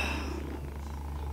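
A sleeping cat purrs close by in a low, continuous rumble that holds steady for the whole short stretch.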